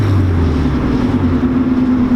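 A Honda B16 engine in a CRX Del Sol gives a steady, close, loud droning hum with a low rumble, holding even throughout without a clear rise in pitch.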